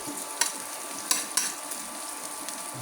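Garlic and ginger sauté in a pan with a steady, bright sizzle, broken by a few sharp stirring clacks of a utensil against the pan.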